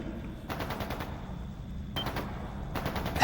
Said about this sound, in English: It's gunfire.